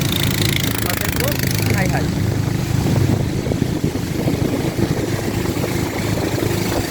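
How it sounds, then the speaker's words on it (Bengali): A boat engine drones loud and steady throughout, a low rumble mixed with wind and water noise from a river trip near Raja Pathar at Tindu. "এটা দিয়ে হচ্ছে মূলত বুটগুলো চলে আর এই ইঞ্জিনটার এতই পাওয়ার মানে সাউন্ড এত"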